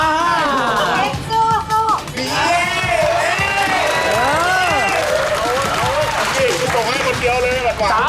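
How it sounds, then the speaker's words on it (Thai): An audience at a steamed-bun eating contest cheers and whoops loudly for a contestant, with excited voices rising and falling in a crowded room alongside shouted commentary. "เอาเจมเชียร์พี่เอกหน่อยครับเร็ว"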